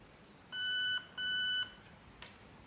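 Two clear electronic beeps from an airsoft AK rifle's HAL mosfet during trigger programming, each about half a second long and evenly spaced against a quiet background hiss.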